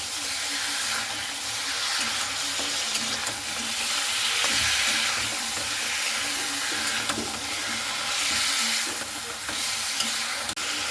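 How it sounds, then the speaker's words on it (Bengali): Chicken pieces being stirred and fried in hot oil in a pan on high gas flame, producing a loud, continuous sizzle with swelling surges as the pieces are moved, close and without talk. "এরপরে চিকেনটা আমি এইভাবে হালকা করে তেলে একটু নাড়াচাড়া করে নেব।"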